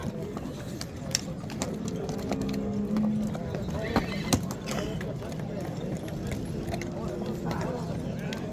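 A busy horse market in Nookat with a steady crowd murmur and people talking throughout, scattered hoof clatter, and faint horse sounds mixed into the din.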